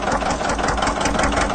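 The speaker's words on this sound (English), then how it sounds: "It's an actual John Deere full-size tractor." A full-size John Deere tractor engine runs at a steady idle, a continuous close mechanical rumble with a faint knocking pulse and no talk over it.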